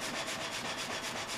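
Sawmill saw in 1860s northern Sweden, a steady whining, chewing rasp that pulses rhythmically, loud and continuous with no voices.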